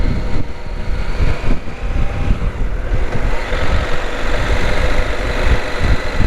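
A CFMoto 800 motorcycle on the move, a loud continuous engine rumble mixed with heavy wind buffeting, steady throughout with no speech.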